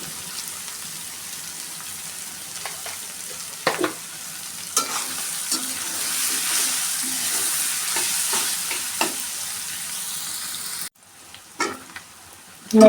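Dried kural fish with a little salt frying in a pan, a steady close sizzle with intermittent scraping stirs and clinks of a spatula, the sizzle dropping briefly near the end before flaring loud again.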